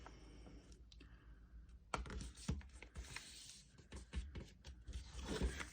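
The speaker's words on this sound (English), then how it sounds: "We're going to fold it back up, and we're going to fold it again." A sheet of paper being folded and creased by hand, heard as soft scattered crinkles and sharp pressing clicks at close range, with no talking.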